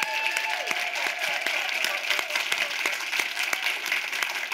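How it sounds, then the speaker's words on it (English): Audience applause for a health panel at a South African event, a steady dense wash of clapping lasting throughout with a few sharper individual claps standing out, and a faint voice briefly audible beneath. "So let's give our panel another round of applause."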